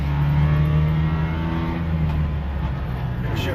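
The small two-stroke engine of a Subaru 360 buzzes close and loud as it accelerates on a highway, its pitch climbing then dropping as it changes gear, with a voice speaking faintly over it.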